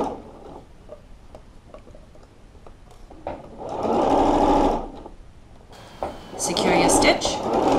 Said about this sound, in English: sew a little pleat into your sleeve. So just one stitch next to the stitching line that you've already got